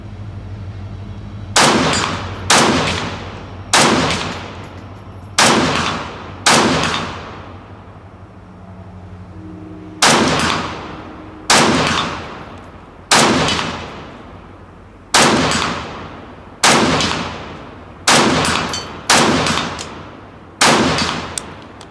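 Loud Swiss rifle shots fired one at a time in an irregular series, about a dozen sharp cracks, each followed by a short decaying echo, with a longer pause partway through.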